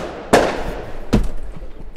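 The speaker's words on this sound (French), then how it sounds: "C'est un feu d'artifice." Fireworks go off in two loud, sharp bursts about a second apart, each trailing a short rumble, with no talking.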